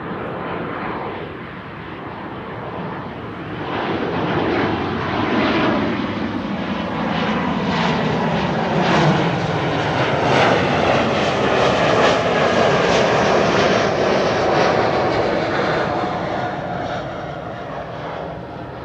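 Embraer E195 jet airliner bound for Berlin at Amsterdam Schiphol, a loud broad engine roar that swells and holds for many seconds as it passes, then eases slightly.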